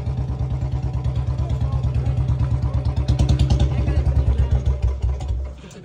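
A motorcycle engine pulsing and revving in rapid, even throbs, loud and close, holding steady for several seconds before dropping off at the end.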